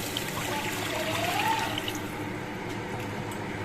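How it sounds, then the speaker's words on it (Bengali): Water is poured into a cooking curry with potatoes and fish, making a brief gurgling splash with a rising liquid tone near the middle over a quiet background hiss, close and soft. "এবার এর মধ্যে পরিমাণ মতো জল আমি অ্যাড করছি।"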